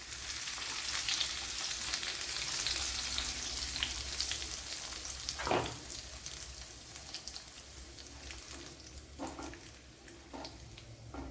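Curry leaves and chili flakes sizzle in hot oil with brinjal fry in a Kerala-style kitchen, a steady close frying hiss with occasional sharper crackles and spits as the pan settles.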